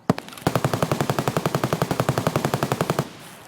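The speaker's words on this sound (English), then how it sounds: "That full auto firing is insane" Sustained full-auto gunfire in the video game Escape from Tarkov, a loud, close, rapid even burst of about two dozen shots lasting over two seconds before cutting off into a fading tail.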